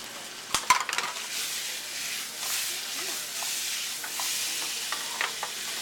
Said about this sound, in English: now our butter and our brown sugar are incorporated and they're starting to bubble